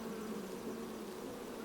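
Honey bees swarm around an open hive as a honey super is added, their buzzing a steady, dense drone that stays close and continuous with no talk over it.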